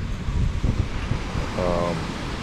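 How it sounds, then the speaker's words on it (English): Surf washes steadily onto a swimmable beach in Cabo, with wind buffeting the microphone throughout and a faint tonal hum drifting in partway through. "We're actually at one of the beaches you can swim at here in Cabo."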